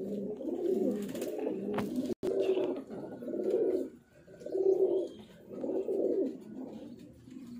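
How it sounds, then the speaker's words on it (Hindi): Golden red-eyed pigeons coo in soft, throaty rolls, one after another in a steady rhythm, close by with no talking. "शानदार कबूतर है, गोल्डन कबूतर लाल आँखों में"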